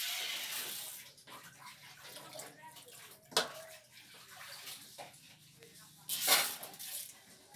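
Boiled stick noodles (mie lidi) for mie gomak drained through a strainer, water splashing and trickling quietly with a couple of louder pours and faint utensil clinks, a voice briefly audible.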